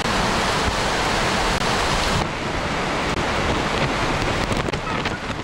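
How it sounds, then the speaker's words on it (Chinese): Typhoon Usagi's gale-force wind and heavy rain at Ma On Shan roar as one loud, continuous rush of gusting wind buffeting the microphone, with a brief drop in intensity partway through. "狂風夾雜大雨，連燈柱都吹喐啊！"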